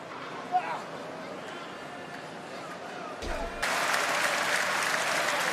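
Sold-out wrestling crowd at a WWE event in Saudi Arabia cheers and applauds under ongoing commentary, rising to a louder, fuller roar of clapping and cheering toward the end.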